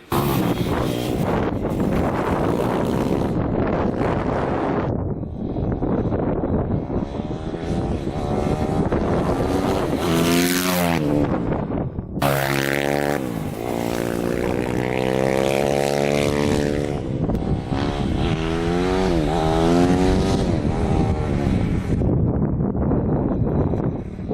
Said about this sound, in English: we'll take this bike for a rip, see how it runs